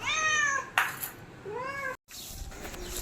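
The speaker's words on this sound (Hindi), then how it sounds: "संडे की सुबह होती है हमारी म्याऊं म्याऊं के साथ।" A cat meows repeatedly up close, a series of drawn-out rising and falling cries with a brief pause and a quick clatter between them.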